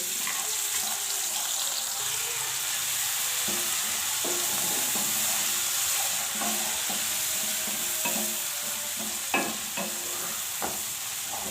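Steady loud sizzling of ginger garlic paste frying in a hot pan, with occasional stirring scrapes and clinks throughout.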